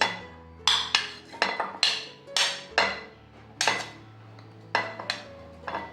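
Pieces of cut fruit for a fruit salad, including sweet lime and banana, drop into a bowl in a series of about a dozen sharp clinks and knocks with short ringing tails, close and fairly loud, with no voices.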